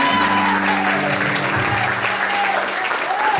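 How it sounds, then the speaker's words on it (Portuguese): A church congregation claps steadily for the Lord, a dense, sustained wash of applause filling the room throughout, with a faint sustained tone and some voices underneath. "Aplauda ao Senhor."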